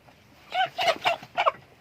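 A rooster with fowlpox clucks close by in a few short bursts, with quiet pauses between the calls.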